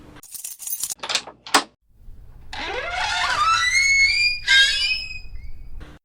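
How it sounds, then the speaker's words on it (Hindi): Keys jangle in a few sharp metallic bursts as a large padlock hanging on a door is opened with a key, followed by a rising, bright ringing metallic scrape; close and clear, with no talk. "दरवाजे पर एक बड़ा सा ताला लटक रहा था, जिसे रमेश ने अपनी जेब से चाबी निकाल के खोला।"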